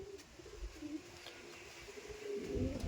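Andhra pigeons coo softly in a loft, a low murmuring coo that swells louder near the end over faint background noise.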